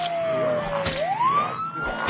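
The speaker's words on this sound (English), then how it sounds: "I generally don't like to use the vehicle's siren if there's an unknown amount of them." A vehicle siren wails in the Project Zomboid video game, a loud, close electronic tone sweeping down and then rising again in a single long cycle, with faint background noise beneath it.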